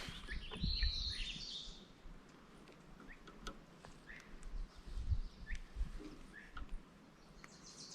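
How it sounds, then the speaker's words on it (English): Loud birds calling outdoors around a kayak on the water, with repeated chirps and whistled notes scattered over low rumbling background noise and no speech. "Sorry these birds are so loud."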